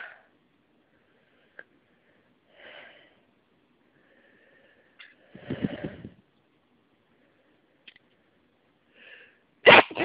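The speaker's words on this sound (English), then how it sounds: "You can change your sneeze sound." A burst of sneezing in a quiet room: a loud sneeze midway, another sharp one at the end, with small sniffs and breaths between.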